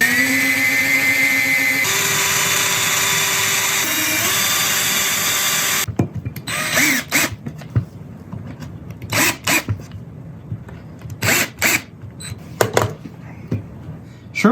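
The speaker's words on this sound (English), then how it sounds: "Let's drill the rest of these holes." A power drill whines steadily for several seconds, its pitch shifting as it bores into wood, then follows with short, intermittent bursts and clatter.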